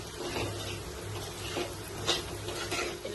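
Egg white frying in a pan, a soft, close sizzle with faint crackles and a few light scraping or stirring touches, no talking.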